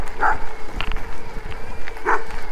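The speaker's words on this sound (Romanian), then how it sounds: "Tocmai ce am fost întâmpinați de câini ăștia mari de la stână." Large sheepfold dogs on a mountain climb toward Leaota Peak bark a couple of times from a distance, two brief barks spaced apart over steady outdoor wind and rustle.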